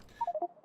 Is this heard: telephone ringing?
yes